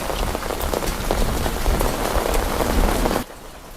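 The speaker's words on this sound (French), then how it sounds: "Ils ont remis la pluie jusqu'à 21h." Heavy rain pours steadily onto a hard surface, a dense close patter that cuts off abruptly near the end.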